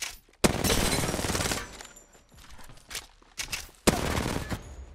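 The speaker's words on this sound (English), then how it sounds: "I pick up a R99 here. I shoot it." In Apex Legends, an R99 submachine gun fires two rapid full-auto bursts, each opening with a sharp crack and rattling on for about a second. Softer footsteps and movement sounds fill the gap between the bursts.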